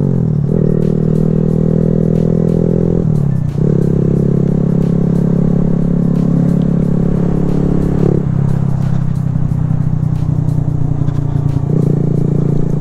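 A Grom motorcycle rides on a cold day, its loud, close engine droning and shifting pitch through several gear changes, with wind and mechanical clatter but no talking.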